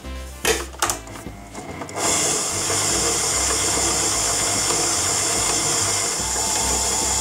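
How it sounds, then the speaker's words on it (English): Electric mixer beats butter and brown sugar in a bowl, a few bumping knocks at the start before a steady, close, loud whirring hum. "And we're going to mix it through again."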